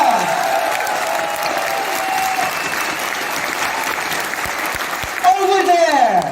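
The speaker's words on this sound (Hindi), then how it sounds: "With a big round of applause." Audience applause fills an indoor product presentation, with dense sustained clapping throughout and a brief voice rising over it near the end.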